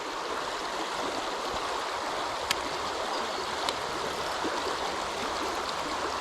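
River rapids rush in a steady, broadband roar of churning water close by, continuous throughout with no talk.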